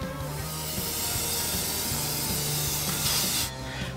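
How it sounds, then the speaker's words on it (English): A spray paint can hisses in one continuous burst for a few seconds and then cuts off, with soft music playing underneath. "I spray painted them black"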